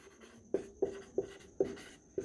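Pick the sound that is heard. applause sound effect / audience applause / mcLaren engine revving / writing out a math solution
writing out a math solution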